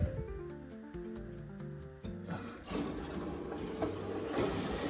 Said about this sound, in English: As you can hear, everything starts filling up.